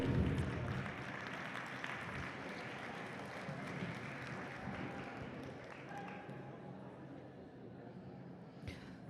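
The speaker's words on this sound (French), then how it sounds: "On peut applaudir les deux équipes et on peut les encourager." Crowd applauding both teams after a jam at a women's roller derby match in a sports hall, a faint, distant ripple of clapping and cheering that slowly fades over nine seconds, with a few sharp knocks near the end.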